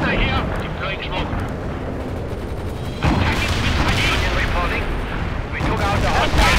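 Heavy artillery barrage in the real-time strategy game World in Conflict, with dense continuous booming explosions and rumbling blasts throughout, growing louder partway through, with game voice chatter mixed underneath.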